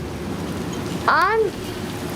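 Torrential rain downpour during a lightning storm, a steady loud wash of falling water, with a brief spoken word partway through.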